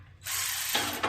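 A ratchet wrench loosens the 10 mm bolts holding brackets on a John Deere L120 riding lawn mower during transmission removal, a short close burst of dense clicking that shifts pitch partway through.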